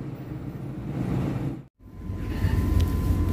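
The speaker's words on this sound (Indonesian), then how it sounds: "Kereta api Cikurai berangkat stasiun Nagrek" The Cikurai passenger train departs Nagreg station, a low rumbling drone of moving carriages heard close by, broken by a sudden short dropout before the rumble resumes and grows.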